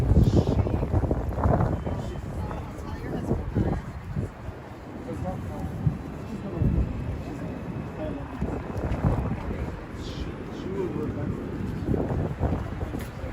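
Cold wind buffets the microphone outdoors in New York City, a constant low rumbling roar with gusty swells throughout, while someone talks over it.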